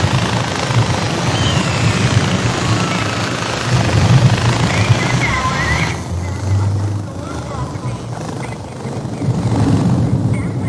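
A helicopter in the video game Far Cry 4 gives a steady, loud rotor and engine drone. Gameplay noise and a voice sit over it.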